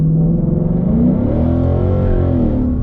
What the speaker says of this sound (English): I dropped it from fourth to second, and when it upshift, I lost traction.